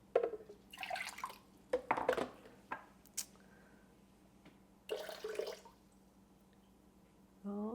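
Excess water tipped out of a bowl in a kitchen, coming as several short separate splashes and pours with quiet pauses between them. A final brief sound follows after a longer gap.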